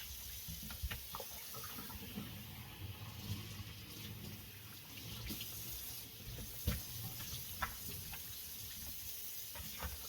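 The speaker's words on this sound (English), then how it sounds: "We're using nice ice cold water, which is just a little too cold on my hands." Cold tap water runs steadily into a kitchen sink while cured homemade bacon is rinsed under it, a continuous close splashing hiss with small knocks and handling sounds, no talking.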